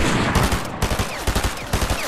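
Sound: gunfire in the video game Fortnite

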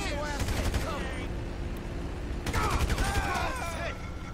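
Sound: gunfire in video game GTA V

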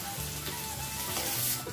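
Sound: onions frying in fish oil in a pan

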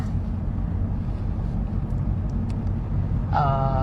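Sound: car driving along a road

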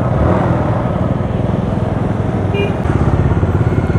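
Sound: motorcycle riding

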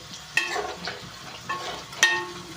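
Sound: prawns frying in a pan with turmeric

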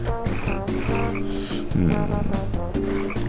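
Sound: frog croaking in the video game Tasty Blue

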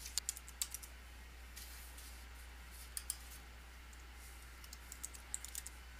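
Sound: typing names on a computer keyboard

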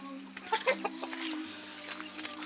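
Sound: chickens clucking

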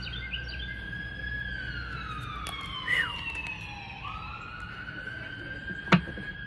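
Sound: emergency vehicle sirens

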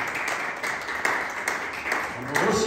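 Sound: church congregation applauding the worship group

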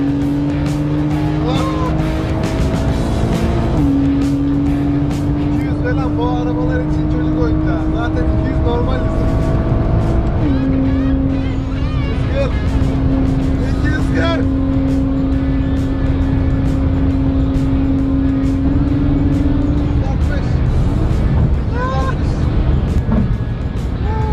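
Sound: supercar accelerating to high speed

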